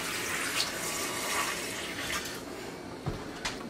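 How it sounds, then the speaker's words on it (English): Water runs steadily from a kitchen tap into a cooking pot while creamed onions are being made, a constant close splashing rush with a few small clunks. "Just a little bit more water in there."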